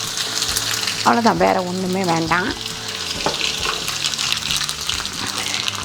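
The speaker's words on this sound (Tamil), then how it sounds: "ஒரு 2 ஸ்பூன் எண்ணெய் ஊற்றிருக்கேன். அதுக்கப்புறம் கடுகு, அதுக்கப்புறம் உளுந்து" Mustard seeds and urad dal tempering in about two spoons of hot oil: a continuous crackling sizzle that carries throughout, with someone speaking briefly over it.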